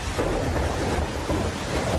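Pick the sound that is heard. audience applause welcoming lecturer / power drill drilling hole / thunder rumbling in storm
thunder rumbling in storm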